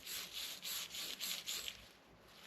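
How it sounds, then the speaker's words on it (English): A K-baffle from a HITEC Arms 12-inch SD silencer is scrubbed to remove carbon buildup, producing a rhythmic series of about six gritty back-and-forth rubbing strokes, close and moderately quiet, that fade out near the end. "this is going to take some scrubbing"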